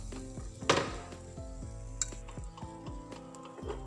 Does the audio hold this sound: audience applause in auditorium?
no